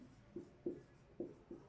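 Chalk or marker writing on a board during a physics lesson on units, four short, soft strokes in an uneven rhythm, faint and alone.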